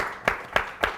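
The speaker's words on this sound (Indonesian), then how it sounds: "Tepuk tangan dulu dong." A few scattered claps at an Indonesian talk show, about three separate hand claps spaced roughly a quarter second apart, fairly close and sparse rather than a full crowd.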